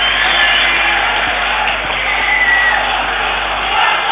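A stadium crowd applauds and roars in a steady, dense wash of clapping and cheering at a UEFA Cup group-stage football match between Sparta Prague and Spartak Moscow, loud and continuous throughout.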